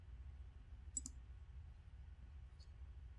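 A computer mouse clicks a finish button, a quick faint double click followed by a single softer click, heard alone against quiet room hiss.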